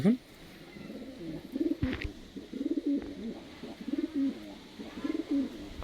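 Pigeons coo nearby at a pigeon sale in Uluberia, in repeated soft, throaty bursts, a rhythmic series of low rolling calls.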